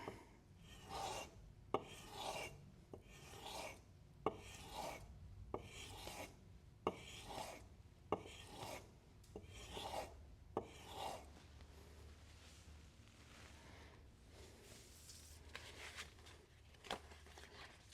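A leathercraft tool's bevel is sharpened on abrasive grits in rhythmic back-and-forth rasping strokes, about a dozen close, distinct passes, then a softer continuous scraping.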